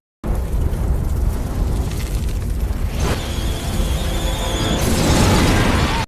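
An explosion in a film as a kitchen fire spreads, a sustained loud roaring boom that fills the whole stretch, with a brighter crackling burst near the end.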